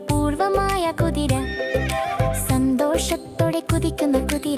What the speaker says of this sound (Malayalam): കുതിര, കുതിര, കുതിര, കൃഷിസ്ഥലങ്ങളിൽ ദൗത്യത്തിൽ കുതിക്കുന്ന കുതിര